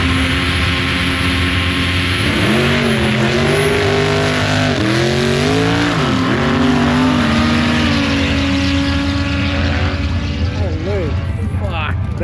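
VL car engine revving and accelerating down the strip at the Motueka drag racing event in New Zealand; loud engine pitch sweeps up and down, with commentary and talking over it.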